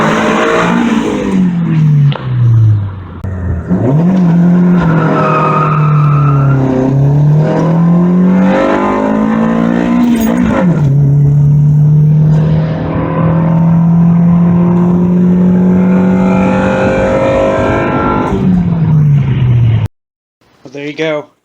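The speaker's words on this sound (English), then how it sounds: "Vtec sounds really mean. It almost sounds like a B-series Vtec." A car engine with a Honda B-series-style VTEC setup and stock cam gear revs loudly during a test drive, its pitch climbing, dropping and sustaining through long pulls as VTEC engages, with a voice talking over it throughout.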